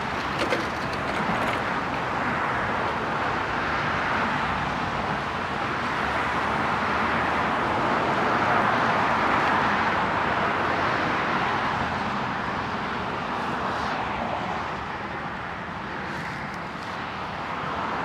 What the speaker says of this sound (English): It's probably a little tough because of the traffic noise, but I hope you're picking up some of the water sounds.